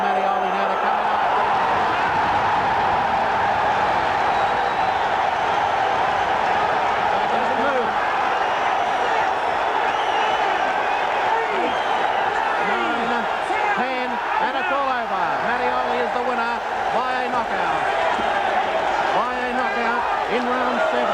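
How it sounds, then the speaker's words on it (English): A boxing arena crowd roars steadily after a featherweight title fight, a broad sustained wash of noise from the 1987 audience, with a commentator talking over it. "the crowd roaring for Mattioli now to come out"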